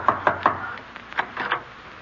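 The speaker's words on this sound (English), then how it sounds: "I'll knock." Knuckles rap on a house door: three sharp, evenly spaced knocks, loud and near, followed by a few softer, irregular thuds.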